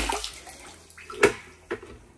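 Collected water is emptied from a dehumidifier's tank, heard as a few close splashes and gushes separated by short pauses in a quiet room.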